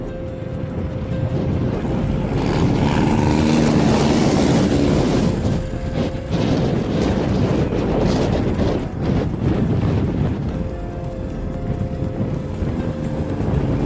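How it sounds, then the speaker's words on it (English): A John Deere HPX turbocharged diesel tractor runs steadily in snow, its engine drone loud and continuous throughout, with a faint whine and some wind buffeting on the microphone. "This John Deere HPX diesel is pushing 35 to 40 horsepower with 5 to 7 pounds per square inches boost."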